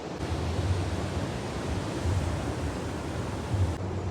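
Sea waves run up onto the shore in a steady, broad rushing wash, with slow swells rising and falling every second or two, continuous and fairly loud with no voices.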